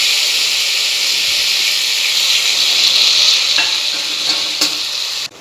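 Beef stock poured into a pan of frying beef for a Kerala-style beef fry gives a steady, loud sizzle and hiss that holds throughout. It ends in a short drop near the finish.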